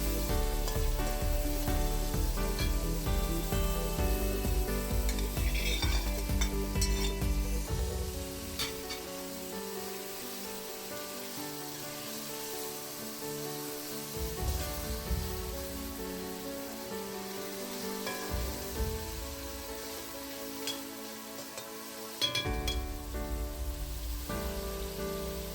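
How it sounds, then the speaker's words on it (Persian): Shrimp sauté in a pan of prepared ghalieh herbs, giving a continuous crackling sizzle over background music, with occasional stirring noises. "بعد از اون میگو رو اضافه میکنیم، یک مقدار تفت میدیم"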